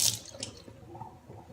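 Water is poured into a bowl of dry oatmeal: a short, bright splash at the start, then a soft trickle and settling liquid, close and quiet with no voices.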